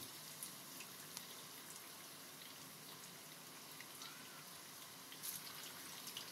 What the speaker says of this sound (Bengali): এটাকে আমি বেশ ভালো করে ভেজে নেব।